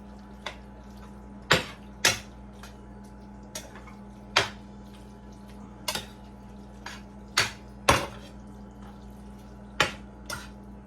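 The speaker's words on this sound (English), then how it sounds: "we're gonna stir this all together. So the cheese is incorporated with the goulash" A spoon stirring cheese into goulash in a pot, with sharp scattered clinks and scrapes against the metal at irregular intervals, about a dozen knocks over a quiet kitchen background hum.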